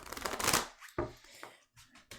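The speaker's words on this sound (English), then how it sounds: "Ruining the corners by doing the hard shuffle." A large tarot deck being hard-shuffled, a loud riffling burst of cards that trails off, then a sharp slap and a few shorter riffles and taps close to the mic.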